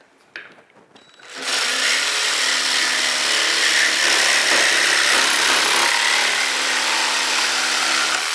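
A jigsaw fitted with a metal-cutting blade and set for a straight cut bites into metal: a few faint taps, then a loud, steady, buzzing whine from about a second and a half to the end.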